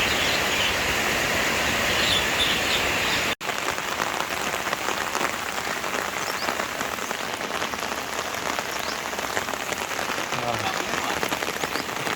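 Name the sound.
rain falling at dawn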